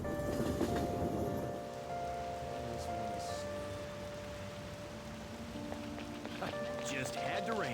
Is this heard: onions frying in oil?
no